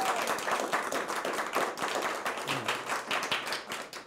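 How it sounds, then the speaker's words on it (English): A burst of audience applause at a live arts show in Milwaukee, many hands clapping steadily and fairly close, sustained throughout without speech. "Round of applause for Erik."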